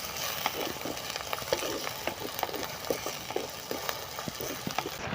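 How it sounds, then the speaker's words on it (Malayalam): Ingredients for a fish curry sauté in a hot pan, giving a steady close sizzle and crackle with scattered stirring scrapes throughout, and no talking. "ഇത് നന്നായിട്ട് വഴന്ന് വന്നിട്ട്"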